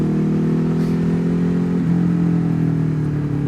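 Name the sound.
motorcycle exhaust on uphill ride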